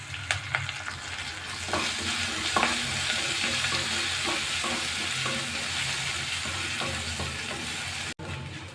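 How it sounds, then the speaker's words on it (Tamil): Small onions sautéing on low heat in a pan for green chilli sambar, with curry leaves and turmeric, giving a steady close sizzle throughout, broken by occasional spoon scrapes and taps against the pan. "இப்போ வெங்காயம் சேர்த்து சிம்மில் 3 நிமிஷம் ஆகுது."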